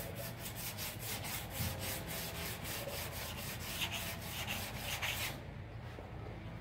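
Steady back-and-forth strokes of 220-grit sandpaper rubbing by hand, a quick regular rhythm close up, stopping near the end.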